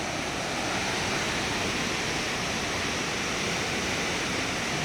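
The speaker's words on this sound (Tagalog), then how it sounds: "Yan na ang baha." Loud, steady roar of rushing flood water in the Science Park River in Cabuyao, Laguna, filling the whole stretch, a dense continuous churn without pauses or voices.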